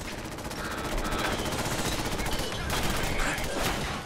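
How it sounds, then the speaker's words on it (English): Rapid automatic gunfire from a Fallout 4 battle against robots rattles on continuously, loud and dense bursts with brief swells, while a player's voice speaks over the shooting. "Who is shooting me?"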